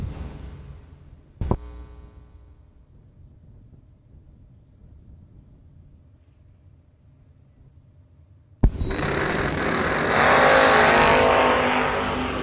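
Drag race with a 67 Camaro: a sharp crack early on, then quiet, then a sudden loud burst of engine roar as the door cars launch and keep accelerating hard to the end.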